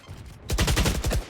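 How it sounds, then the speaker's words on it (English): Gunfire in Valorant during a First Strike qualifier match: after a quiet moment, a rapid burst of about eight close, punchy shots in quick succession, loud and sharp over faint background ambience. "Crashies with the headshot"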